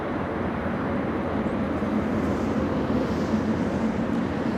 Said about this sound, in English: We heard the incredible sound, the T-64 engines powering the Super Stallions